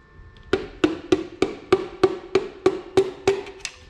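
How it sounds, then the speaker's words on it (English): A rubber hammer taps a piston into a Zetec turbo engine block: about eleven evenly spaced, sharp knocks in a steady rhythm, close and clear with nothing else heard. "Rubber end of the rubber hammer."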